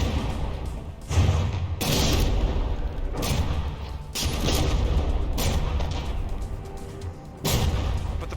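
Battleship guns fire shells in From the Depths, with heavy booming salvos recurring roughly every second or two over a constant rumbling battle din, loud and close.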